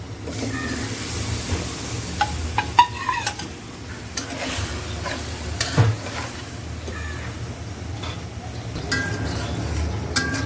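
New potatoes are stirred into frying masala in a pan holding carp fried with turmeric, chili, coriander and salt. A steady low sizzle runs under irregular scraping strokes and a few sharp utensil taps.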